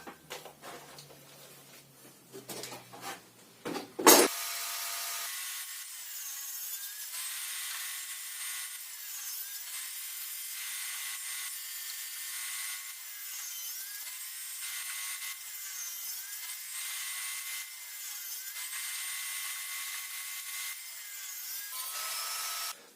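A wooden rafter is cut for a beehive nucleus box, a long continuous power-saw whine after a few handling knocks, steady and close until it winds down at the end.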